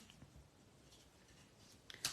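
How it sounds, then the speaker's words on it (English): Scissors cutting through the foam dimensional backing on a handmade card: a faint, quiet scene ending in one short, sharp snip near the end. "If you take your scissors and go underneath and simply cut through"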